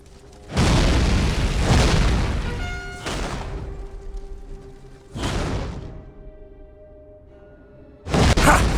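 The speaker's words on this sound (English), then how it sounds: "My cannons will turn these walls to rubble, Stefan." Cannon fire in the game Warhammer: Mark of Chaos pounding fortress walls: four heavy booming blasts, each with a long crashing, rumbling tail, spaced a few seconds apart and loud in the foreground.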